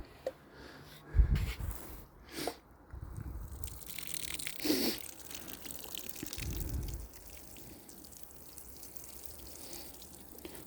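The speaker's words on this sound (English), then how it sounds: "Yeah, so let's water it, mate, first time." Water poured from a container onto the soil around a newly planted Tzar plum tree, heard as a few splashing gushes and soaking sounds with faint dripping between, fairly close and without talk.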